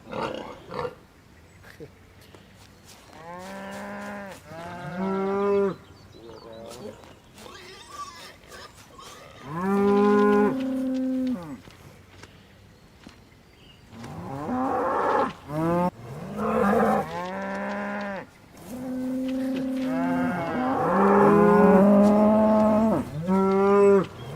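Cows low repeatedly on a farm in the Thomas and Friends: Wonders of Sodor video game, long harmonic moos rising and falling in a loose overlapping chorus, fairly close and loud, with faint background ambience between calls.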